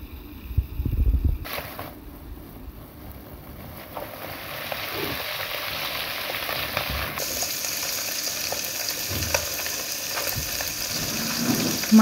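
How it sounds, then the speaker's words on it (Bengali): Small desi koi fish fry in hot mustard oil in a kadai, giving a steady, close, continuous sizzle that grows a little brighter and denser partway through, with no voices. "এখন আমি কড়াইতে সরষের তেল গরম করে মাছগুলো ভেজে নেব।"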